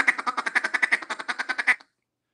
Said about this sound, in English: this double reed I like to use for feeder calling and finishing some ducks